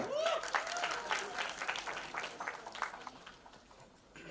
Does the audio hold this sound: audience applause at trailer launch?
yes